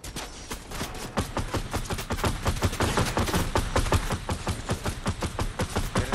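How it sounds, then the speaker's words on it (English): Rapid bursts of video game gunfire crackle continuously, dense overlapping shots and automatic fire, loud and close throughout with no talk. "Man shooting out there."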